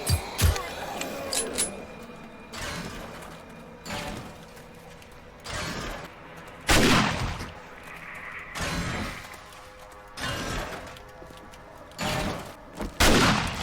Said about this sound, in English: there are these iron, like, chunks out here that I could go and dig up